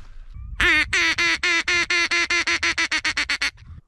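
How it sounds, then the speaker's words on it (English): Ducks on a sandy shoreline in an Alaskan rainforest quack in a loud, close burst of about a dozen rapid, evenly spaced calls that speed up before stopping. "There's a whole bunch of ducks."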